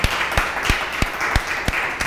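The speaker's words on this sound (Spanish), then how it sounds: "un aplauso nuevamente para todos nuestros estudiantes" Students at an artistic gala, just after a percussion ensemble, are met by audience clapping: sharp, evenly spaced claps sound in a steady rhythm over a low room hiss.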